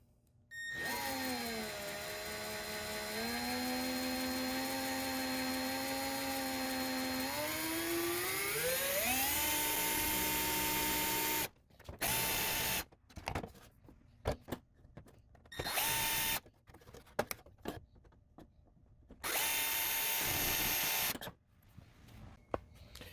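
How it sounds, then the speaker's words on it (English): A power drill with a 1/2 inch paddle bit bores a hole into a plastic console, winding up in pitch under load, then stopping and restarting in several short bursts. "That's the 1/2 inch hole I just drilled into the plastic."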